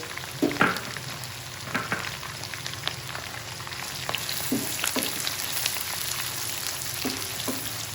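Onions crackle and sizzle in hot oil in a pan for karela gosht, a dense steady frying hiss punctuated by occasional louder pops and stirring clatters, close and without talking.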